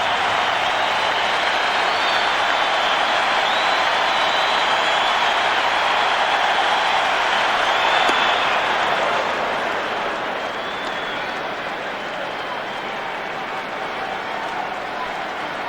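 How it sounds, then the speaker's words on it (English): Crowd noise from a 2001 postseason baseball stadium, a broad steady roar of cheering and applause held loud for most of the stretch, then easing slightly toward the end, with no clear voices over it. "this crowd is really into it now"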